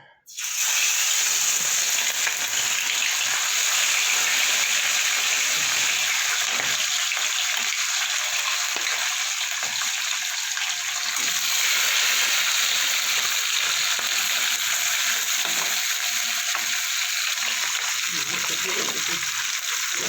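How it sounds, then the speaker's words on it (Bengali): Rohu fish frying in hot oil, a loud steady sizzle that starts abruptly and carries on without a break for the whole stretch. "মাছগুলো আমার ভাজা হয়ে গেছে"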